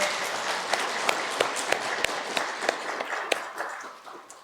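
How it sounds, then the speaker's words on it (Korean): Congregational applause fills a church after a service's choir anthem, a steady wash of many hands clapping with sharper individual claps standing out, moderately close and continuous throughout. "박수로 한번 격려하겠습니다"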